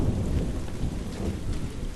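Heavy rain and rolling thunder in the video game Drizzlepath, a loud, dense downpour with deep rumbling throughout and no voices.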